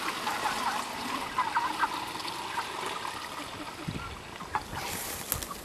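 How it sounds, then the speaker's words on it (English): Water pours and trickles into a chicken water bucket in a backyard broiler setup, a soft continuous splashing stream at close range with no talk. "Fill it up with water."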